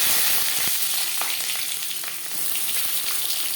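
Panch phoron, a five-spice mix, sizzles in hot oil in a pan before brinjal goes in. A steady, close crackling fry with no talk.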